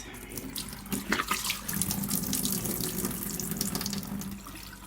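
Faucet water runs steadily into a sink while China Rose radish sprouts are swirled and rinsed a second time, a close, continuous splashing rush that swells slightly partway through.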